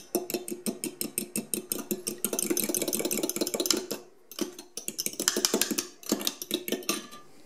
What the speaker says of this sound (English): And mix that together really well.